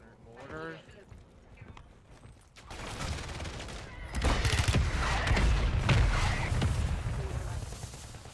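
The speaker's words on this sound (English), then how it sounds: "Mortar, watch our left here. Fucking mortar." Mortar fire lands near a trio during a Call of Duty Warzone Resurgence match. A faint voice comes first, then heavy blasts and crackling bursts of gunfire build loud and close, repeating over the last few seconds.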